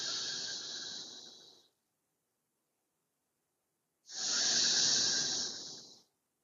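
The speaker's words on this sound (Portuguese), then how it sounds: "puxa o ar pelo nariz e solta pela boca forte" Two forceful breaths during a spine-pain-free workout session, each a long, loud hiss-like airflow of about two seconds, separated by a silent pause.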